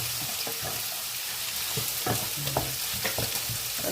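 Ampalaya (bitter gourd) with egg being sautéed in a pan, with a steady close sizzle and repeated scraping stirs of a utensil at an uneven rhythm, with no talking.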